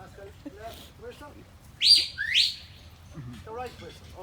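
A shepherd's right-command whistle to a sheepdog: a single two-part shrill blast, a rising note then a falling one, with faint talking murmuring before and after.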